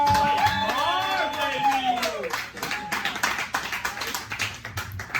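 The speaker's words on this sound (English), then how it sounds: "Clap it up now for Mike Moore." Crowd at an open-mic comedy show clapping for a comedian, a mix of scattered hand claps and taps with cheering voices early on, thinning into looser, uneven clapping.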